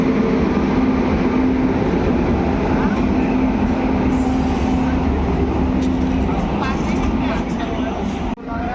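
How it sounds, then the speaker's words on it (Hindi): The 14087 Runicha Express, hauled by a WAP5 electric locomotive, pulls into Ringas Junction railway station with a continuous loud rumble and clatter of wagons and a steady hum, while a voice talks over it nearby. "P5 लोकोमोटिव के साथ आ रही है 14087 रुणीचा express rings junction railway station पर।"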